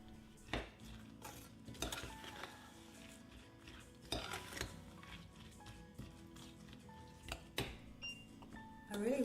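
A sugar mixture being stirred in a pot, with repeated clinks and scrapes of a utensil against metal over a faint bubbling background, fairly quiet and irregular.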